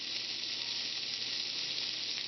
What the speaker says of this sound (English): I'm cooking it with grease, lard, and a bunch of that cooking oil.